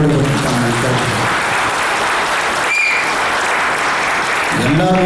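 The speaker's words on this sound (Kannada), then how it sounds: "ದಯವಿಟ್ಟು ಎಲ್ಲರೂ ಒಂದು ಬಾರಿ ಚಪ್ಪಾಳೆ ಹೊಡಿಬೇಕು" Loud, dense audience applause at a press conference for the Kannada film Pogaru. The clapping runs steady and unbroken, with a voice speaking briefly at the start and again at the end.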